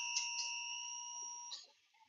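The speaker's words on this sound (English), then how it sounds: "right as buzzer number 1 goes off" Arena buzzer at a PeeWee youth ice hockey game sounds the end of the first period, a loud sustained electronic tone held steadily for about two seconds, with a second blast starting before it fades.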